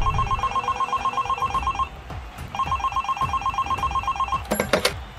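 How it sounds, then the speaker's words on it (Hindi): A telephone ringback tone sounds after dialing, two electronic rings separated by a short pause, clear and close, followed by a brief click as the call connects, in a 3D animated cricket comedy. "लगा फोन।"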